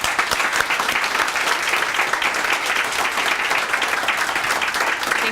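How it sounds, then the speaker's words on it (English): An audience claps for students at a Student of the Month breakfast, producing loud, sustained, dense applause from many hands that keeps an even intensity throughout. "a round of applause for all the students here today"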